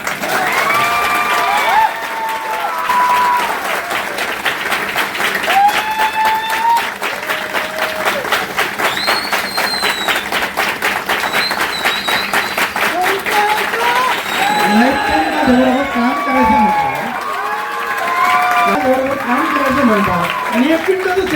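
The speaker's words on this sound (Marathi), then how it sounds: "टाळ्या होत्या." Seminar audience breaks into applause and cheering, a sustained dense clapping with shouts and whoops rising toward the end, voices mixed into the crowd noise throughout.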